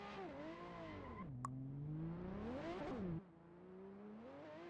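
A Ferrari drift car runs down the straight at Sturup Raceway during qualifying, its engine note rising and falling as it revs hard, with a tire screech while it swings into the drift.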